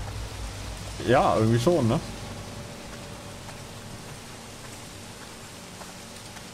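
Steady rain falls on a house in the horror video game Pineview Drive, a soft even hiss running the whole time, briefly under a short spoken remark near the start.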